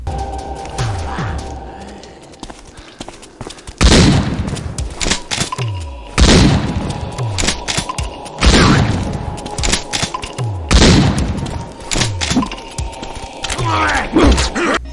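A shotgun fires repeatedly in a Groove Games zombie video game, heavy booming blasts arriving every couple of seconds with mechanical clatter and reloading sounds between them.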